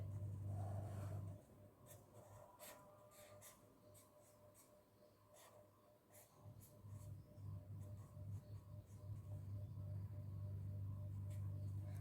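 A hand-drawn diagram of a uterus and baby takes shape in quiet, scratchy drawing strokes, some short and some longer, over a low steady hum.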